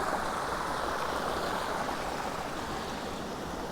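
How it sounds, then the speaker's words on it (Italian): Water rushing steadily down a small stream in a wooded park by Lake Garda after heavy rain, a continuous broadband gush close by with no pauses and no voices. "Poi in questi giorni è piovuto anche tanto, quindi scende tanta acqua."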